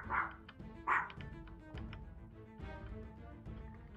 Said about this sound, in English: Random dog in the background barking.